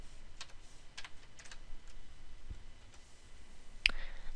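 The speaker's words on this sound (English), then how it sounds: "we need to type in our answer here" Computer keyboard being typed on at a steady, moderate pace, with soft key clicks spaced out and one sharper click near the end, close but quiet, no talking.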